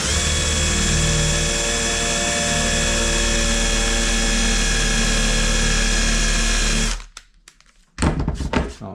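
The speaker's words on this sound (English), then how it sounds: "I'm not going to drill all the way through" Power drill with a bit boring into a practice piece of wood, a loud steady whine running for about seven seconds, then stopping with a few knocks and thunks of handling.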